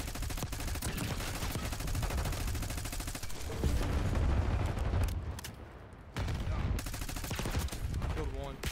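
Dense bursts of automatic gunfire and explosions from a Call of Duty Black Ops 6 multiplayer match, loud and nearly continuous, with a brief dip in the middle before the shooting resumes; faint talk sits underneath.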